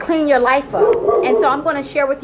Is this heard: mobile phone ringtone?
no